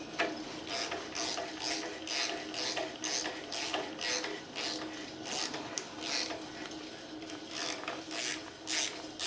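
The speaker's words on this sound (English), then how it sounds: "we'll just retrace a few threads and we'll attach our ratchet" A hand ratchet turning the bolt on an engine timing chain during a 4.7 stroker engine build, producing a rapid rhythmic clicking in repeated bursts, close and moderately loud, with no talk.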